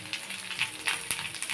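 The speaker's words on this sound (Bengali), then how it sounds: "পেঁয়াজ কলি আর আলু আমার প্রায় ভাজা হয়ে গেছে" Onion stalks and potatoes fry in a pan with a quiet, close sizzle punctuated by small pops and light crackles.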